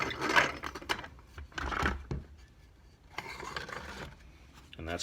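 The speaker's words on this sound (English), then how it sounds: "The finer you grind it, it's going to go through much easier." Wheat being ground into cracked wheat in a hand grain mill, heard as faint, uneven gritty rubbing and rasping in bursts with pauses, close by and quiet.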